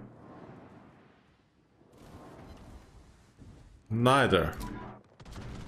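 Naval guns boom loudly from a warship in World of Warships, one sharp heavy blast standing out after quieter rumbling, with a voice speaking briefly beforehand.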